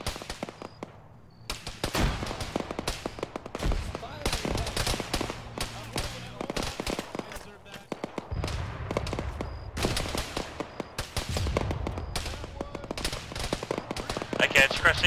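Gunfire in a ShackTac military simulation game, rapid volleys and sustained bursts of rifle and machine-gun fire cracking repeatedly at varying distances, with occasional heavier booms and radio chatter between squad members.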